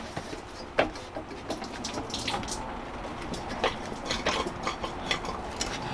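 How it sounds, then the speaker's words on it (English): Coolant running out of a loosened radiator hose on a 1993 Mazda RX-7, an irregular close trickle and splash with scattered drips and small knocks. "Coolant's still coming out."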